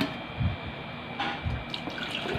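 Water runs and splashes into a pot for a flavored gulaman drink in a home kitchen, giving a steady moderate pour with a few louder clunks.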